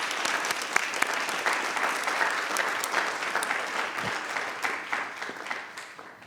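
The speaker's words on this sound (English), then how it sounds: "I think we clap, right?" An audience at a Prince William County school board meeting applauds, sustained crowded clapping from a room full of people that slowly tapers off near the end.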